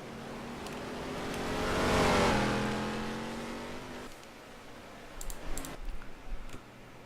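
Race cars in a NASCAR video game swell past with rising and falling engine drone, growing louder then fading, followed by light clicks.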